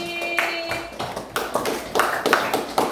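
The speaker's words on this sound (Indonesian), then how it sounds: "Tepuk tangan untuk Pati." Children in a classroom clap their hands in a short burst of separate, slightly uneven claps, close and fairly loud, after a brief tone at the start.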